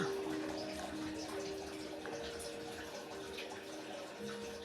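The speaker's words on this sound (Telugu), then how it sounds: "ఇప్పుడు మనం కొద్దిగా వాటర్ పోసుకోవాలి" Steady running water poured into a pot of moong dal tomato curry continues evenly for several seconds at moderate loudness.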